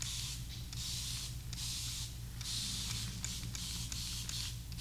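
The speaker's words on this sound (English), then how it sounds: "I'm gonna spray the hair with some water" Short hissing bursts of a spray bottle misting water onto hair during a high fade slick back haircut, several quick squirts in an uneven rhythm, close and fairly quiet with no talking.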